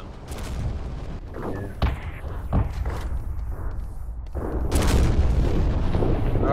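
Howitzer artillery fire in the video game MAV during a siege on Grassy Crick, heard as several deep booming blasts spread across the clip, with the loudest, heaviest one near the end.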